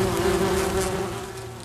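Wasps buzz steadily around a nest inside a garden shed in Höxter, a dense, continuous close-up drone with a strong low hum and no voices.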